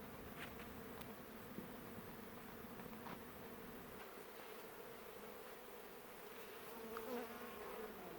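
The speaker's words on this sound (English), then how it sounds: "I hear bees all around us, so we should get out of" Steady insect buzzing fills the air near a bat-filled structure in Baja, Mexico, with several bees droning close by and passing in and out, quiet and continuous with no talking.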